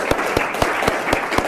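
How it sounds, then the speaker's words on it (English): Workshop attendees in a lecture room give a round of applause, a steady mass of clapping with a few louder claps landing at a regular beat. "I'd like to give them a big round of applause"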